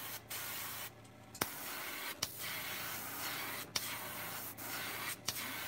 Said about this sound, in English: I'm also not spraying this till it's the full darkness of the green